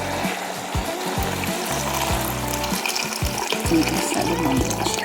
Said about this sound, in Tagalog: Tapos lalagyan natin ng tubig.